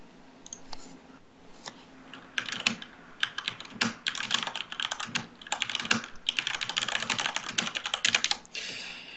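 Dense, irregular clatter of typing on a computer keyboard, close and fairly loud, with bursts of rapid keystrokes and brief pauses; no voices.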